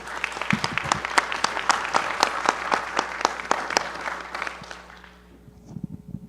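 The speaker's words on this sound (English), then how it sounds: "let's give our speakers a round of applause." Audience at a scientific meeting gives the speakers a round of applause: clear individual claps within a steady burst that thins out and fades near the end, with a faint murmur after.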